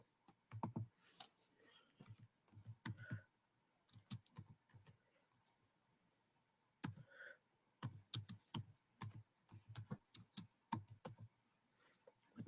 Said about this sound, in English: let me type it in there